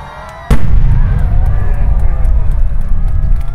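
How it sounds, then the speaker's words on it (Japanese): A large aerial fireworks shell bursts over the water at the Meiko water festival, a sudden loud boom followed by a long rumbling, crackling roar of the spreading multi-layered display. "大きな花火の中に3個の花火が重なり、合計40に咲く花火です"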